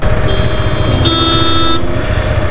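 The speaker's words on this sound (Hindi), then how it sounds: "वो देखो उधर वो ट्रक खड़ा है, और सामने से बड़ा ट्रक आ गया" Truck horns honk in a traffic jam on a mountain road on the route to Kedarnath, with sustained overlapping horn blasts over a steady low engine rumble and no talking.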